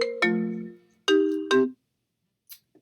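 A phone ringtone plays a short melodic chime, a sustained tone followed by two quick bright notes, then stops, leaving near silence with a couple of faint clicks.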